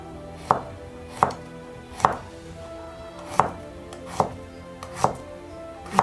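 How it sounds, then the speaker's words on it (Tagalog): Garlic being chopped with a knife on a board, seven sharp, evenly spaced cuts roughly a second apart, close and alone with no speech. "Hiwa po tayong bawang."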